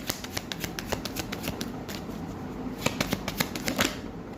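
Tarot cards are shuffled and drawn close up, a rapid run of crisp riffling flicks and taps, fairly loud and continuous with no speech.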